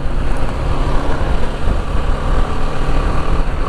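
A BMW G310 GS single-cylinder motorcycle on a test ride, its engine a rough, rumbling low drone buried in heavy wind buffeting, loud and continuous with no voices.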